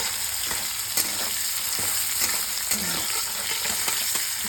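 Potatoes with green chili fry in a pan with a constant loud sizzle, cut by periodic sharp clicks and scrapes of stirring.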